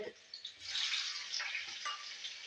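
Mustard seeds, garlic, ginger and green chilli frying in hot oil for a Kerala-style egg roast: a steady, soft hiss and sizzle with faint crackles running throughout, and quiet speech in the background.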